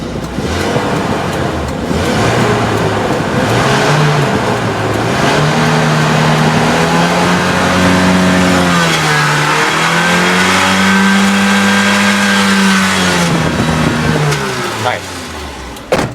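A 1996 Toyota Kijang Super SX engine revs up and down in several long rising and falling sweeps, steady and close, with a person talking briefly over it.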